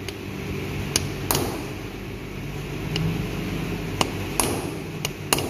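Sharp metallic knocks on a transmission part of a Suzuki Futura 1.5 during repair, about half a dozen irregular hammer strikes over a steady background hum.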